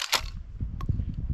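A pump-action shotgun being worked, a quick sharp mechanical clack followed by softer rattling and a small click as a shell pops out, close and brief with no talk.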